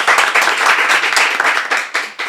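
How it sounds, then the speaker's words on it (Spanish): Applause for a guest on a Spanish-language medical podcast: a burst of close, dense clapping from a small group, steady and loud for about two seconds, then thinning into a few separate claps at the end. "Aplausos."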